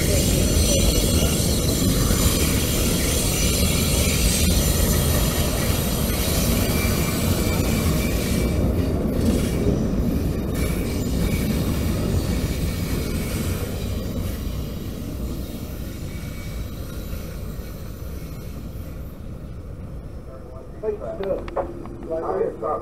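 A long freight train rolls steadily past, a continuous loud rumble of wagons with squealing wheels and rail clatter that gradually eases and fades near the end.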